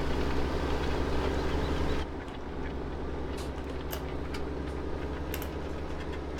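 A 400-horsepower Valtra tractor engine in Farming Simulator 17 drones steadily with a low, dense hum, dropping slightly in loudness partway through and continuing with faint clicks over it; no one speaks.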